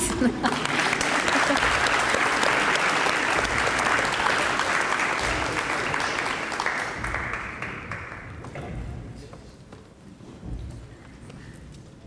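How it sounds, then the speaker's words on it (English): An audience gives a sustained round of applause at a school letter-of-intent signing ceremony, loud and dense at first, then thinning and fading toward the end. "So please join me in a round of applause"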